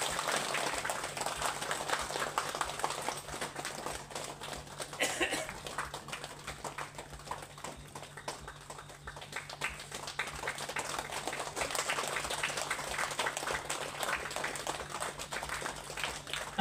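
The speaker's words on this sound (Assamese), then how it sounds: "আমি সকলোৱে তালি বজাম দেই" At a Christmas gathering, an audience claps in a faint, distant wash of applause that swells and eases over a long stretch, with some murmuring voices beneath it.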